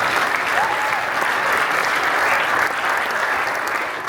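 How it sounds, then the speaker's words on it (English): A large audience at a sports panel discussion gives a big round of applause, dense, loud, steady clapping throughout with a faint crowd murmur beneath. "Let's give Carly a big round of applause."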